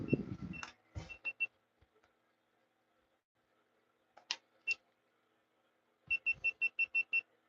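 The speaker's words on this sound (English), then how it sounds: "Oh, GoPro battery died." GoPro camera sounding its low-battery warning, several bursts of short, sharp electronic beeps in quick succession separated by silence, close and clear with a little handling noise at the start.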